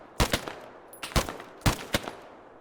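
Rifle gunfire in the military shooter game Arma 3: three paired bursts of sharp shots, each a quick double crack, evenly spaced and fairly loud with no voices.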